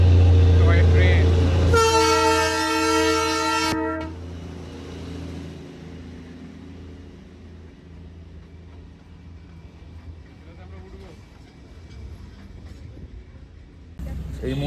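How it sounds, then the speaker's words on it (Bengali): A Darjeeling Himalayan toy train sounds a low horn and then a sharp, bright whistle up close before rumbling past, fading into street ambience with voices around. "toy train"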